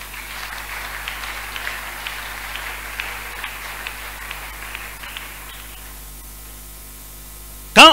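A church congregation acclaiming the Lord with sustained applause and cheering, a dense wash of clapping that fades toward the end before a sudden loud burst.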